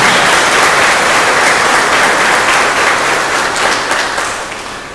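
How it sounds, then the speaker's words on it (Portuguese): Loud, dense applause from a church congregation during a homily at the São José novena, celebrating the parish of São José; continuous clapping that fills the space, then tapers off near the end. "Uma salva de palmas, a nossa bonita paróquia de São"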